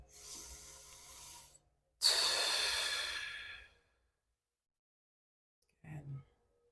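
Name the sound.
deep breathing during moving meditation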